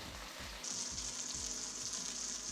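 Mushrooms browning in olive oil in a pan give a steady, close, dense sizzling hiss that brightens after a moment and holds without pause, with nobody speaking.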